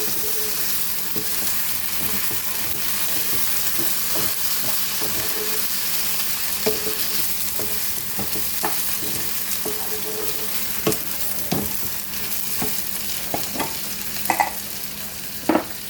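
Rice and toasted vermicelli stir-fried in a pan for a Turkish Aksaray tava dish: a constant loud sizzle broken by scattered spatula scrapes and clicks against the pan.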